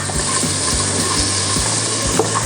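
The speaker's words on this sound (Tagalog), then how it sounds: "igigisa natin yung garlic." Garlic sizzles in annatto (achuete) oil in a hot pan, a loud, close, continuous frying hiss with faint stirring taps underneath.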